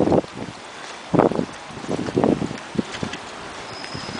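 Gusty wind buffets the microphone outdoors on a wet park path, coming as irregular loud low rumbling bursts separated by quieter stretches.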